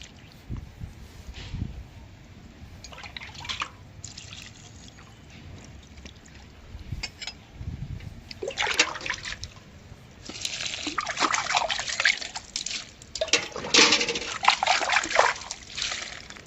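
Water is poured from a vessel onto potted plants outdoors in the early morning, giving intermittent splashing and trickling bursts, quiet at first and then louder and more sustained in the second half.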